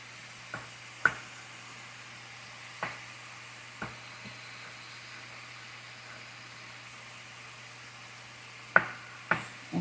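Italian sausage frying in a pan gives a steady, soft sizzling hiss with a few sharp pops and clicks scattered through it, close by and without talk.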